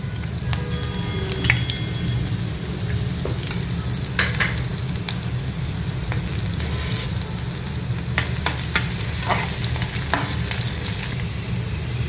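Chopped garlic and ginger sizzle steadily in a hot pan, a continuous close crackle with occasional sharper pops and a few spoon scrapes.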